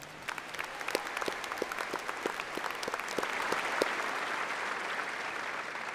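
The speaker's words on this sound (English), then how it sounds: "So how about another round of applause for Lucas West?" Steady applause from a crowd at a high school graduation ceremony in honor of graduate Lucas West, with sharp individual claps standing out over a dense wash of clapping that swells slightly partway through.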